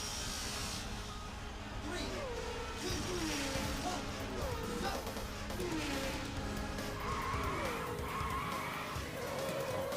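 Race car engine and tire skids in the Virtua Racing arcade game, a steady loud whine that rises and falls across gear changes, heard continuously with squeals near the end and talk over it.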